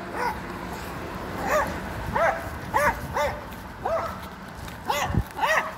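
A dog barks repeatedly at uneven intervals, sharp yelping barks close by over outdoor background noise.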